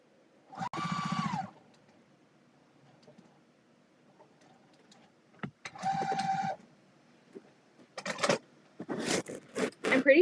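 Sewing machine stitching pieces of a quilt kit with a 1/4 inch foot, running in short separate bursts of about a second each, fairly close and clear with quiet gaps between runs.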